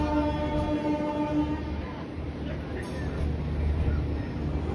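A train engine on the Tirupati to Chennai run drones at Arakkonam junction, platform 3, with a steady low rumble and faint tonal hum, continuous and fairly close, while someone talks over it.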